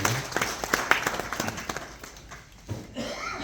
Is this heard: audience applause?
yes